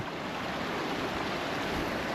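Water of Big Sucker Creek flows beneath clear ice on a wintry trail near Duluth, Minnesota, making a steady, even rushing hiss with no breaks.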